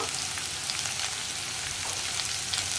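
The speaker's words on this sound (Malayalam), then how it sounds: "ഇതെല്ലാം ചേർത്ത് നന്നായിട്ടൊന്ന് വഴറ്റി റെഡിയാക്കിയെടുക്കാം." Sliced onion and curry leaves sauté in hot oil in a pan for a spicy brinjal curry, giving a steady, even crackling sizzle at low-to-moderate level with no voices.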